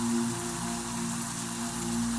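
Steady rain falls during a storm, a dense continuous hiss of drops on surfaces with a low constant hum underneath, even in level throughout and without voices.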